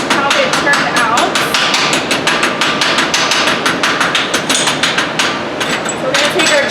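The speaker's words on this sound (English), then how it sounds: "we're just chipping away the slag that was left" A chipping hammer knocking slag off a rough first weld bead, rapid steady metallic taps repeating throughout, loud and close, with a voice talking over the tapping.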